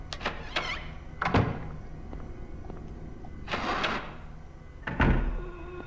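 Blocked door in Silent Hill rattled several times: repeated heavy thunks and clattering jolts in short bursts with quiet gaps between, loud and close, without speech.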